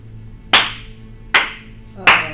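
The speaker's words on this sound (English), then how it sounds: "the statue isn't clapping, but you hear clapping" Three slow, deliberate single claps ring out about a second apart, each sharp crack trailing into a short echoing decay over a faint low hum.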